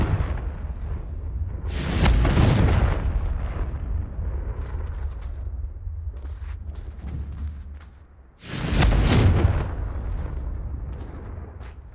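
Confringo fire blast spells in the video game Hogwarts Legacy, two loud booming explosions several seconds apart, each followed by a rumbling roar over a constant low background.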